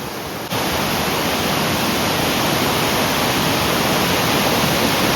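Mountain streams in Uttarakhand rush loudly after a cloudburst downpour, a dense, constant roar of water that fills the whole stretch without pause after a brief quieter start.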